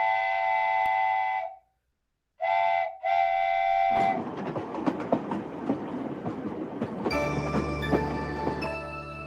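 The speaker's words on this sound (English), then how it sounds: "And a railway station." A train whistle blows in long tonal blasts with a short gap, then a train rumbles and clatters along the rails before the whistle sounds again.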